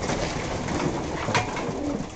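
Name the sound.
birds on a farm being fed in the morning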